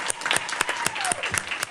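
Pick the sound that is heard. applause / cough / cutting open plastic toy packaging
applause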